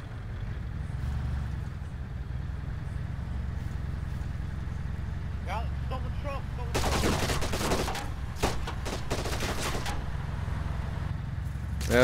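Gunfire in the video game Arma 3 arrives as a sudden fusillade of sharp rapid shots over a low steady vehicle engine rumble, a burst then scattered single cracks, with no talk.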